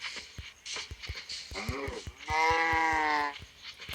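Sheep in the Minecraft video game bleat in two clear, wavering calls, the second longer and louder, over rhythmic thuds of in-game footsteps or hits.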